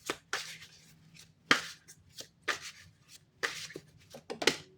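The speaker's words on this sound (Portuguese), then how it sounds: "Essas cartas são muito grandes para minha mão. Fica difícil um pouquinho de embaralhar." Oversized playing cards being shuffled by hand, a series of sharp riffling and slapping bursts that come in an uneven rhythm, close and clear, with no voices.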